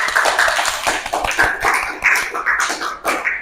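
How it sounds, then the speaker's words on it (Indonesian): Audience of teachers and students claps in a classroom session, a dense, close patter of hands with uneven bursts, loud and steady throughout. "Tepuk tangan dulu, terima kasih."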